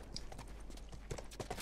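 A horse's hooves clip-clop at a walking pace in The Last of Us, soft and somewhat distant, the steps faint over a low background bed.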